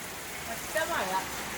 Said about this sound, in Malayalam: നല്ല മഴ പെയ്തു തുടങ്ങിയിട്ടുണ്ട്.